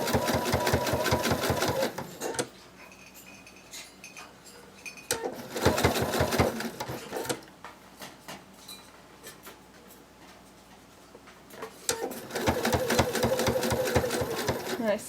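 A sewing machine works the head gusset of a bunny plush in three bursts of rapid stitching, close and clear, pausing between runs while the fabric is repositioned.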